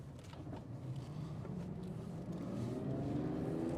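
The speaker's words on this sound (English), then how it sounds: "The car does accelerate exceptionally well." A 2003 Aston Martin DB7 Vantage Zagato coupe pulling away in first gear, its engine note rising steadily and growing louder over a few seconds, heard from inside the car without talk.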